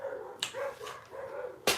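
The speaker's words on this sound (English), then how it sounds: "Dogs, dogs, dogs." Dogs bark indoors at home: a few sharp, loud barks spread across the moment, with whiny tones in between and a final close bark.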